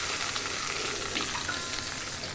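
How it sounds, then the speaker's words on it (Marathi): A hot tempering of urad dal, curry leaves and dried red chillies is poured over coconut chutney, giving a steady, close sizzle that holds evenly throughout with no voices. "ही फोडणी मी याच्यावर ओतून देते"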